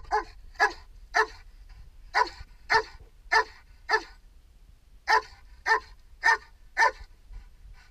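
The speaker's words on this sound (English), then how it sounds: "When they find an individual, they're gonna sit and repeatedly bark." Police K-9 dog barking repeatedly, eleven sharp barks in two bursts with a short pause between, close and loud over a quiet background.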